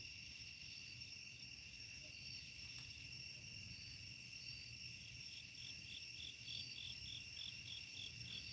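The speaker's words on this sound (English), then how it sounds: "Listening to the crickets." Steady chorus of crickets chirping at night while a lunar eclipse is watched through a telescope, continuous trilling pulses with a constant high whine, no voices.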